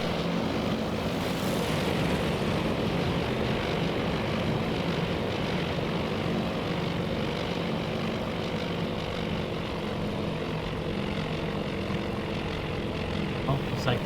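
WWII carrier aircraft dive on a target in the naval simulator game Task For Admiral, a continuous loud propeller-engine drone with wind rush that holds steady throughout, with a voice talking over it.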